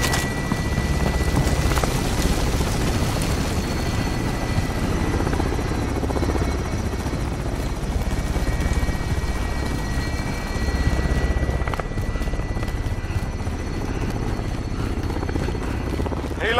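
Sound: helicopter flying in Call of Duty video game

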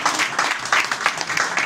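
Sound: applause

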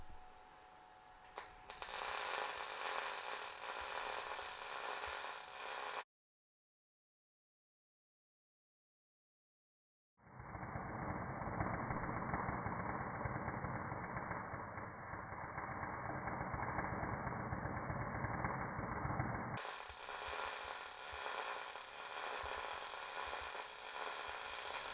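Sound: Titanium Unlimited 200 welder welding a fillet weld on steel

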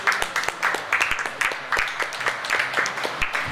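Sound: round of applause

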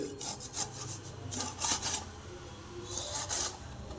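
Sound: knife cutting a large lemon

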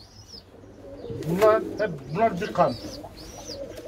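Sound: birds cooing in a coop

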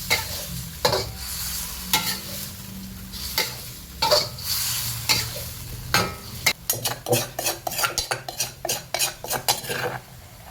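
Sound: stir-frying home-ground roasted black pepper in a pan

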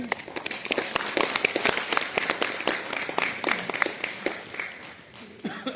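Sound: audience applauding future doctors

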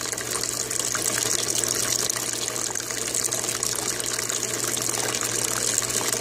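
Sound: aquaponic bell siphon flushing water, venturi bubbling

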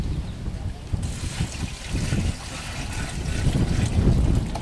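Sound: water being poured into a container of fresh manure

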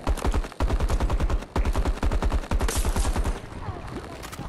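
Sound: AK-5C assault rifle gunfire in Battlefield 2042 video game

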